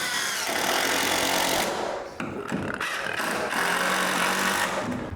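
A power drill drives a screw into a bowed wooden stud, loud and close, whirring steadily, briefly dipping and stuttering mid-way, then running again.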